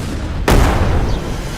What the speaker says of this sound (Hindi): धमाका कैसा लगा बेन